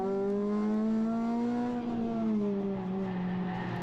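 A Renault Clio RS 200 on a track day at Three Sisters circuit drones at high revs against the limiter, a steady loud whine with a slightly wavering pitch, close and without speech.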